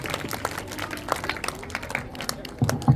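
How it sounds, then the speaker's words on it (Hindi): At a school Republic Day celebration, an audience claps for a student performer being honoured. The applause is a moderate patter of distinct hand claps with light crowd murmur underneath, lasting about three seconds. "एक बार जोरदार तालियां हो जाएं प्रिया के लिए।"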